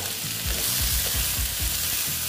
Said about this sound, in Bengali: এটা আজকে আমি একটু ভালো মতনই ভেজে নিচ্ছি